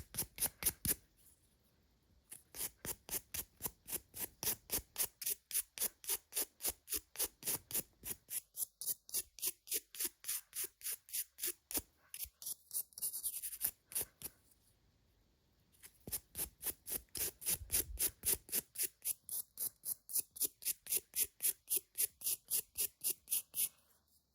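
Dip powder nails being scrubbed with a brush, a steady run of fast, rhythmic bristle strokes close up, pausing briefly twice, with no talking.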